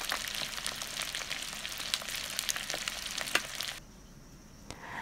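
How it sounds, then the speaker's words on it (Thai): Small frogs deep-frying slowly in hot oil until the bones turn crisp, cooked outdoors in the forest: a steady, dense sizzle with light popping that suddenly drops to a quieter hiss near the end. "ค่อยๆทอดไปนะครับทอดเพื่อให้กระดูกของเขียดเนี่ยกรอบ"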